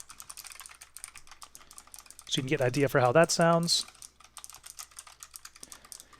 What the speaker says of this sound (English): And then here we will type on the keyboard a little bit